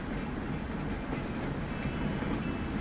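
A tram rolls along in the Transport Fever video game, producing a continuous, dense rumble of wheels and running noise at steady loudness with no talking.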